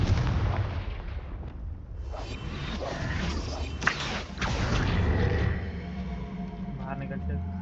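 A Confringo fire spell explosion in the Hogwarts Legacy video game, a loud burst followed by crackling debris over dense game noise while a player talks.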